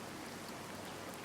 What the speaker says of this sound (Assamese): এতিয়া আমি অকণমান বৰষুণ চাম ন?